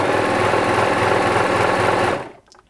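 A Bernette 610D serger, running unthreaded, whirs at full speed in a steady, loud mechanical drone for about two seconds, then cuts off abruptly into near silence.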